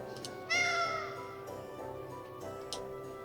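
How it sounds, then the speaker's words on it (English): A cat meows once, loud and close, then a fainter second mew follows in the Tales of Vesperia game, set over a steady ambient music bed. "Finally get to interact with the cat."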